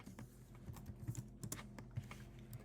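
Values are keyed into a computer keyboard in quick, irregular taps and clacks, close and fairly soft, with short pauses between bursts and no voices.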